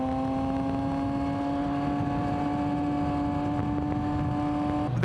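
A Yamaha MT-09 motorcycle hums at a steady, even engine tone while being ridden, loud and constant throughout, with a brief shift in pitch right at the end.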